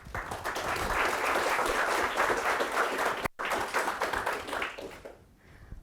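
Audience applause welcoming a guest speaker to a nanomedicine lecture, steady dense clapping from a seated crowd that holds strong and then tapers off near the end.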